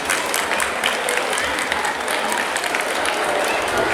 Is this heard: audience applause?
yes